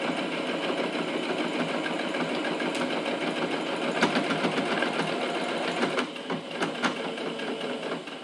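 A sewing machine stitches a small pencil case with a voile mesh window, running steadily with a brief pause and back-tack near the end, loud and close with no talk.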